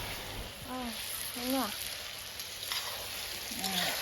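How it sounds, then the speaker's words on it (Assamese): Duck meat frying in a pan at home, a soft continuous sizzle running under brief bits of talking. "আমি হাঁহৰ মাংস ভাজিহে ভাল পাওঁ"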